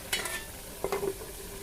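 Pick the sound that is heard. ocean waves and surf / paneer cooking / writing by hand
paneer cooking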